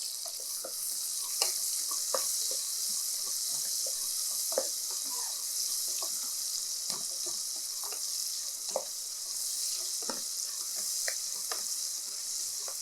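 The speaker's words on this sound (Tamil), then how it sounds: "இப்போ இது வெங்காயம் வதங்கிடுச்சு" Onions seasoned with salt frying in a pan give a steady, close sizzle, broken by light scraping and clicking as they are stirred; no one speaks.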